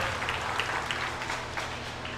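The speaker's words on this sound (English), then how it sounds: "So let's give her another round of applause for representing Jackson County in the top 15." A crowd at the Jackson County Fair applauds a county fair queen, a dense, even patter of clapping that holds steady for a couple of seconds with no speech over it.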